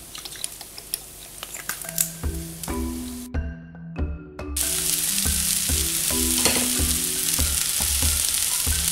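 Soba noodles tossed with vegetables and soy sauce in a hot pan, a steady sizzling fry with clattering utensil scrapes and taps, growing louder and more continuous toward the end, close and without talking.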